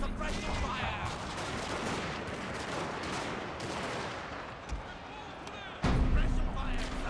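Musket volley gunfire in the video game Shogun 2: Fall of the Samurai, dense crackling rifle fire rolling continuously with overlapping shots, loud and busy, with a heavier burst near the end.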